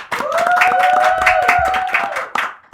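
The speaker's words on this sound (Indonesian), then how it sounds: "Tepuk tangan dulu dong." An audience at a Ramadan event claps steadily in quick overlapping strokes, close and loud, with a sustained tonal hum running underneath throughout.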